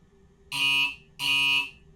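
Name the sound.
train door closing warning in Train Simulator Classic video game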